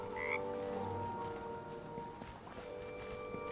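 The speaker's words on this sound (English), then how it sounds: "Frog has certainly lost its mind, and it's warning us about Ethel again" Frog croaking in Baldur's Gate 3, steady layered croaks and tonal calls repeating over soft marshy ambience, fairly faint and with no talk.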